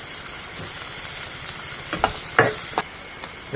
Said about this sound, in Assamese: এইখিনি এতিয়া ভালদৰে ভাজি ল'ব লাগিব। অলপ ব্ৰাউন কালাৰ অহালৈকে ভাজি ল'ম।